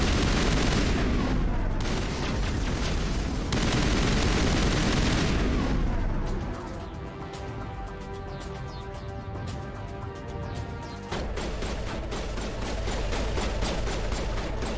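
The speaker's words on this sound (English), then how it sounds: "I forgot how loud the assault rifle is." Assault rifle fire in Mass Effect Legendary Edition, dense rapid shots forming a loud, continuous roar with a few breaks, close and dominating throughout.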